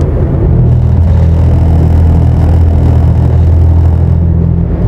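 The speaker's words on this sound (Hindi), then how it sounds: "इसको इस तरीके से डिजाइन किया है कि आपके टायर में अलग नॉइस आने लगेगा" A car's tyres roll over the textured lane edge of the Bundelkhand Expressway at speed, giving a loud, steady droning rumble with a constant low hum throughout and no voices.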